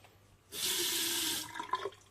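Tap water gushes into a small hand-wash basin for about a second in a loud, steady rush, then drops to a brief splashing trickle as the flow is cut.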